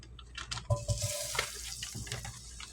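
Half a stick of butter melting in a pan sizzles quietly with scattered crackles and pops, mixed with soft stirring and clinks close by.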